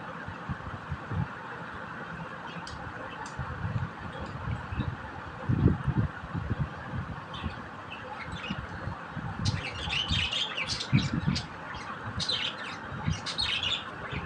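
Chirps and squawks from a brood of five young birds just taken out of a clay pot at a bird market, with repeated high calls over steady low rumbling background noise and occasional engine hum.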